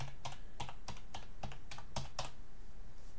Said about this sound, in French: Tu choisis ton clavier French AZERTY, tu testes ton clavier ici